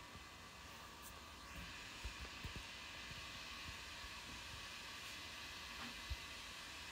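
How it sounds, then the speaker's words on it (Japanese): A hair dryer runs in the background as a steady, faint airy hiss, with a few soft knocks and bumps on top. "急ドライヤーの音してる。"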